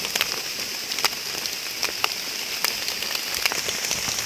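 Rain falls in a forest during wet-weather mushroom gathering, a steady hiss of drops pattering on leaves and surfaces with occasional louder close drips standing out, and no talking.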